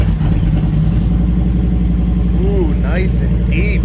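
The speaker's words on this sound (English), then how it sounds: "Let's go ahead and fire this baby up." A 2011 Honda Fury VT1300CX cruiser motorcycle settles into a deep, steady idle, loud and close, with its low pulsing rumble continuing alone beneath a few light whistle-like squeaks.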